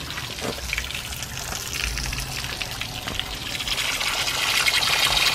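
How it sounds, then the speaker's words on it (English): Water gushes steadily through the cooling system of a Subaru Sambar during a flush after a timing belt and water pump job, a continuous broadband rush that grows slightly louder toward the end, with no talk. "Pretty much just gonna let it run until the water's clear coming out the other side."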